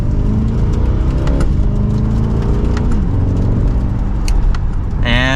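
A 2024 Chevrolet Corvette C8 2LT Z51 with a dual-clutch gearbox pulls hard from second gear, the engine note climbing loudly and dropping at two quick upshifts, heard from inside the car.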